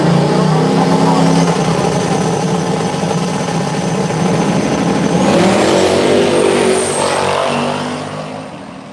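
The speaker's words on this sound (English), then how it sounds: "good race right here. Nitrous power versus turbo power." No-prep drag race cars at Southside Dragway, one nitrous-powered and one turbocharged, roar loudly and steadily side by side down the strip, engine noise rising then fading toward the end, with a voice talking over it.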